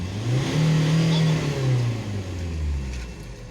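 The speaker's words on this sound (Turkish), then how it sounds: "Egzoz ölçüm. Burası tam gaz bir daha." Full-throttle revving from a Ford Connect engine at a vehicle emissions inspection: a loud, steady high-rpm roar that dips slightly and builds again, heard up close with nothing else over it.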